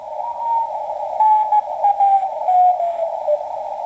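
A CW Morse code signal passes through the narrow filter of a Realistic DSP-40 digital signal processor, heard as a clear, loud single-pitch tone keyed on and off in dots and dashes.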